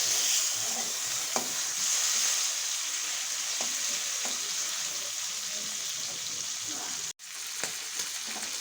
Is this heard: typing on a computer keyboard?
no